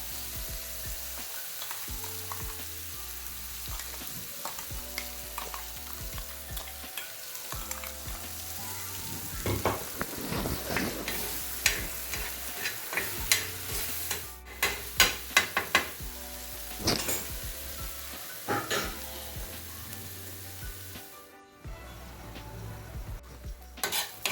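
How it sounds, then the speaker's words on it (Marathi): Green chilies, tomato and onion for a tangy thecha sautéing in oil in a pan, a continuous close sizzle and crackle with frequent scraping, stirring strokes that grow busier midway. "छान तेल सुटतपर्यंत जीव करून परतवून घ्यायचं आहे"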